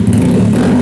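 A loud modified Honda Grom motorcycle engine rumbles close by in a brief, steady burst of deep exhaust noise.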